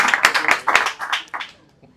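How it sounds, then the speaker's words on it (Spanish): An audience claps for a guest at a Spanish-language talk event, a short burst of scattered hand claps that thins out and fades within two seconds. "les pido un fuerte aplauso para Diego también"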